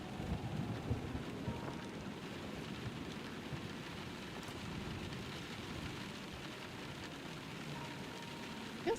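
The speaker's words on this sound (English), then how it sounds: "Oh, it's stormy." A steady thunderstorm in the game Letter Lost: continuous heavy rain hiss with low rolling thunder rumbling underneath throughout, close and enveloping, no voices.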